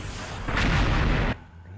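A short, loud burst of gunfire in a video game, set in a mummy warehouse map, hits hard for about a second and then cuts off abruptly.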